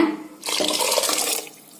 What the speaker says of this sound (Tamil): மறுபடியும் ஒரு அரை டம்ளர் தண்ணி சேர்த்துக்கோங்க